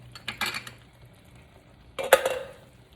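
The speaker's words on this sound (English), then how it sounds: "I'm going to go grab me a little spoon because this is extremely hot" A small spoon and cutlery clinking against dishes in a home kitchen while making baked beans, two short bursts of scraping and clinking, close by with a quiet gap between them.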